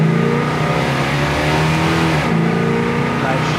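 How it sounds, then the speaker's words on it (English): A 1968 Plymouth Satellite driven on a road in Iowa with the engine accelerating through the gears: a steady, loud mid-range engine drone that rises in pitch, with a shift partway through, then climbs again. "I'm gonna go through the gears once."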